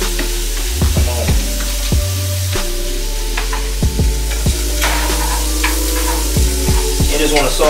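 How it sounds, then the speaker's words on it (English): Vegetables are sautéed in a pan for spaghetti sauce, giving a steady, loud sizzle with a low hum underneath. Repeated sharp knocks and scrapes of a utensil against the pan sound close by. "I just want to saute these for the sauce"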